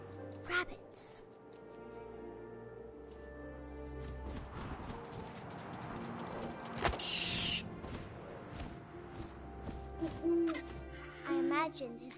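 An owl hoots in the video game What Remains of Edith Finch, with low, soft calls set against a wind-like ambience, scattered game sounds and a speaking voice.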